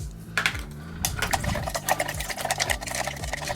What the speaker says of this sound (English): Now we want to stir it to dissolve.